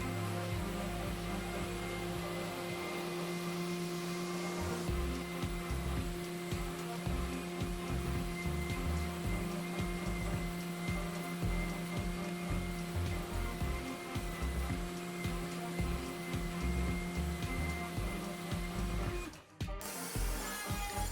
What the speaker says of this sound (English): whoever invented this oscillating spindle sander was a genius. This thing is a workhorse. It really does a great job at cleaning up the bandsaw marks